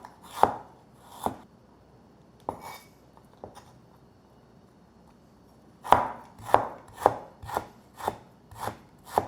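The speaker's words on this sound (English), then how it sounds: "Cut some ginger." Ginger is chopped with a knife on a cutting board: a few scattered sharp knocks, a pause, then a quick run of about eight evenly spaced, close, crisp chops.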